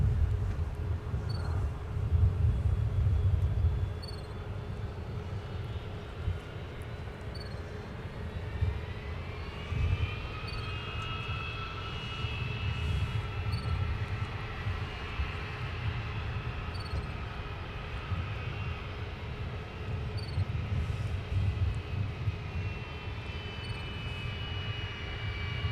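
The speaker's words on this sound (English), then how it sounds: "Then we got a 737 2-for-1. Sun Country on the left and Delta on the right." Two Boeing 737 jets, one Sun Country and one Delta, roll on an airport runway with a steady engine roar and rising whine, heard from a distance and without voices.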